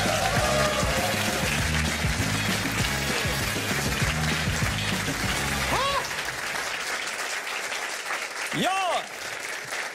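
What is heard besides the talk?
audience applause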